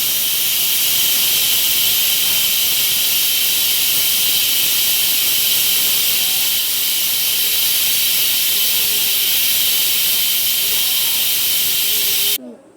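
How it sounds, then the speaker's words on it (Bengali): A pressure cooker of chicken releases steam in one long, loud, steady hiss that holds for about twelve seconds before cutting off abruptly. "এই যে দেখো কুকারে সিটি দিয়ে দিয়েছে"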